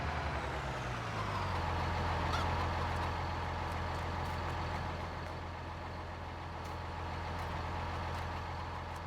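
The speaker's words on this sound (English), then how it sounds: "let's get the tractor out of the way" A tractor engine in Farming Simulator 19 rumbles steadily at a low pitch, its revs dropping and then holding a constant drone throughout, loud and alone with no speech.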